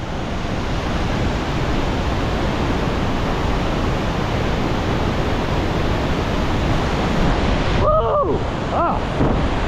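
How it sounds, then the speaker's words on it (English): An upper waterfall in Alaska roars as a dense, continuous broadband rush, loud and close throughout, with a brief voice near the end. "this is the falls"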